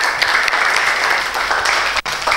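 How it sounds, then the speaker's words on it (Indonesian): A classroom of students gives a short, loud, dense burst of applause for a classmate, with a quick dip near the end. "terima kasih, bagus sekali, tepuk tangan untuk"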